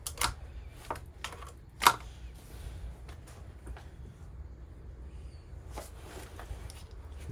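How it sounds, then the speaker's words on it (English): Faint, sharp clicks from the starter relay of a Suzuki SV650S motorcycle, a few irregular ticks spread over several quiet seconds against low background noise. "I'm hearing the relay clicking."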